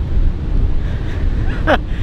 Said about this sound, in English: Not only is it super windy, but it just keeps raining.